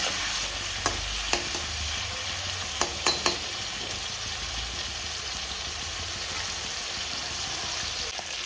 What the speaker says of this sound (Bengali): চিংড়ি মাছ ভাজা হয়ে গেছে